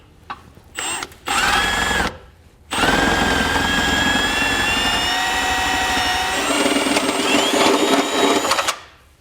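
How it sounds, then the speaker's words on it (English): A long 9/16 drill bit bores up through a Volkswagen vehicle body: several short whirring bursts of the electric drill, then a sustained loud high-pitched whine for about six seconds before it stops. "we're going to take our 9/16 drill bit now, and it is an extremely long one to be able to do this, and drill up through here"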